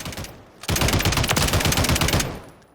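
A light machine gun firing in Call of Duty Modern Warfare III, one continuous rapid burst of evenly spaced shots lasting about a second and a half, loud and close, then cutting off into a short echoing tail.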